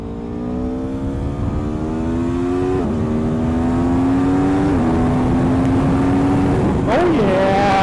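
A 2022 Aprilia Tuono V4 motorcycle accelerating hard through traffic: a loud, close engine note climbs in pitch, drops sharply at each of several quick gear shifts, then climbs again, with steady wind rush underneath.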